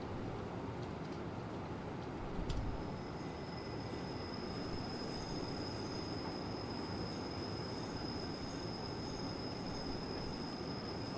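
Swiss train in Train Simulator Classic braking, with a thin high wheel squeal drawn out over steady rolling rumble, a brief clank early on, continuous and moderately loud, no talking.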